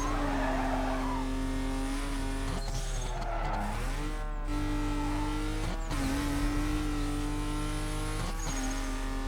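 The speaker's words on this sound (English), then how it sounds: "Had to brake hard there for that sharp left-hander." In the Need for Speed: Carbon video game on PS2, a car brakes hard into a sharp left turn. A loud engine drone shifts pitch through downshifts as tires squeal and skid, then the engine revs back up, with no talking.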